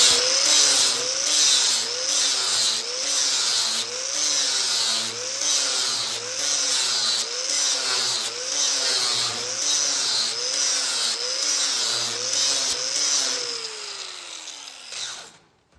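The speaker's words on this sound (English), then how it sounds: "Now we'll just sand this off with my flat disc." Flat sanding disc on a power tool working a skid plate for a junkyard Jeep, a loud continuous whine that rises and falls in rhythmic passes before winding down at the end, with no talk.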